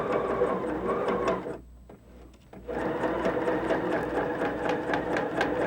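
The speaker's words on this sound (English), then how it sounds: "periodically I'll be lifting the presser foot up, and this helps to get around the curve more smoothly" A sewing machine stitches a curved seam in rapid, steady bursts, pausing briefly midway as the presser foot is lifted, then running on close and loud with no talk over it.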